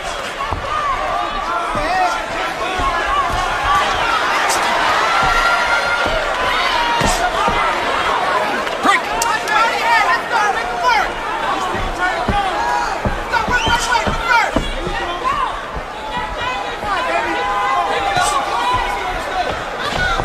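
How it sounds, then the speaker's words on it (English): Boxing arena crowd at a Terence Crawford vs Raymundo Beltran fight, a steady loud roar of cheering and chatter with sharp bursts and swells throughout, voices mixed into the din. "And the crowd is kind of reacting with that same kind of energy."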